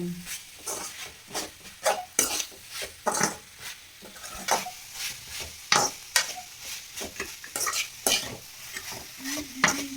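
Brinjal frying in oil in a home kitchen pan gives a bright, continuous sizzle, broken up by repeated scraping and stirring strokes with a spoon against the pan and no talking.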